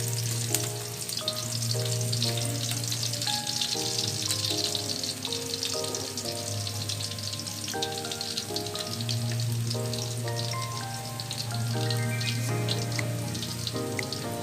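Garlic frying in a pan, a steady close sizzle running the whole time beneath music in the background, with no voices.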